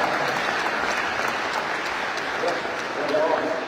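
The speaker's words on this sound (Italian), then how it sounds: "E quindi fare una grande applauso." Audience applause for minister Carlo Nordio at a book presentation with Luca Zaia: steady, dense clapping throughout, with a voice speaking over it.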